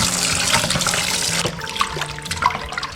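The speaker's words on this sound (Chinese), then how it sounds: "白醋、地瓜粉，使劲的揉搓，清洗干净，大概需要揉5分钟左右，然后给它多清洗2遍" Pig small intestines being rinsed under running water, a steady close splash and trickle from a tap with small knocks and sloshes.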